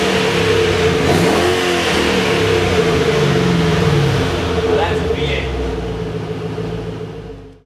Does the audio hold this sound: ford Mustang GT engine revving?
yes